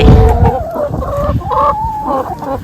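Chickens cluck in a run of short, pitched calls, close and fairly loud, over about three seconds with no voices.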